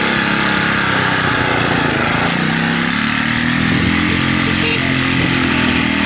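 A motorcycle engine roars continuously up close, loud and rough with wind noise, its pitch wavering slightly as it rides along.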